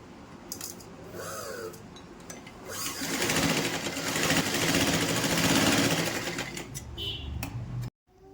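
A sewing machine stitches a cotton dhoti, running in a close, rapid whir that builds for several seconds and then stops abruptly, after a few handling sounds at the start.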